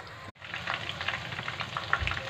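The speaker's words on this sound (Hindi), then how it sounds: "अब हम दूसरी साइड फ्राई होने देते हैं" Nargisi kababs fry on their second side in a pan, a continuous close sizzle with scattered pops after a short break at the start.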